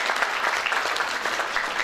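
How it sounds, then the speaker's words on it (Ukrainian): Dense, steady audience applause fills a short stretch at a parish concert of the Church of St. Anthony of Padua in Pastavy, with no voices heard. "Аплодисменты Полине."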